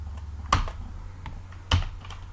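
Two isolated keystrokes ring out on a computer keyboard while code is typed for a brick breaker game clone, each a sharp close click separated by a short pause.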